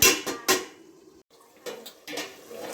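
A metal lid lifted off a pan of simmering egg masala curry, with a few sharp clanks and clatters of metal against metal near the start, a brief lull, then further clinks and rustling at the end.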